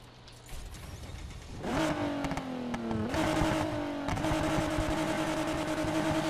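A powerful car engine revs up in Need for Speed Heat, roaring loudly with rising and shifting pitch through several gear changes, steady and close with no talking.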